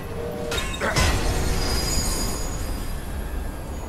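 A moving train in the video game Assassin's Creed Syndicate rumbles loudly and continuously, with metallic wheel squeal and clatter rising near the start.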